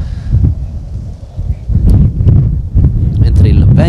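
Strong gusty wind buffets the microphone at an outdoor amateur football match while a commentator talks over the rumble.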